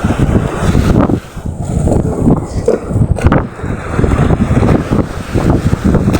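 Strong amihan wind gusting hard at sea with waves slapping against a small boat, a loud continuous rush with buffeting on the microphone throughout.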